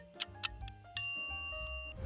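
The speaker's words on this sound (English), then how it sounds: "I'm going to put in a bell sound effect as soon as the timer ends." A bright bell ding sounds at the moment a timer ends in an edited clip, preceded by a couple of short ticking clicks and ringing out with a clean, sustained decay.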